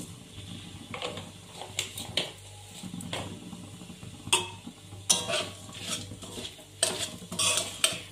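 Chili, bay leaf, cinnamon pieces, cloves, cracked cardamom and cumin seeds hit hot oil in a pan, giving a steady low sizzle broken by repeated sharp metallic clinks and scrapes of a spoon stirring, with no one speaking.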